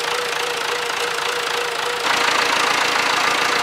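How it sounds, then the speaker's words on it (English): The engine of an old farm tractor runs steadily, loud and close, with a low knocking throb that gets a little louder partway through. "It's the last tractor left on the farm."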